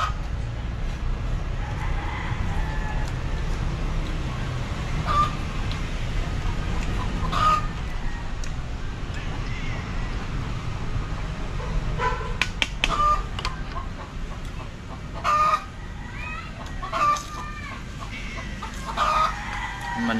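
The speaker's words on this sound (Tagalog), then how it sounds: "Manok ka, ingay ka" Chickens at a market cluck and squawk repeatedly over a steady background din, with occasional sharper calls standing out at intervals.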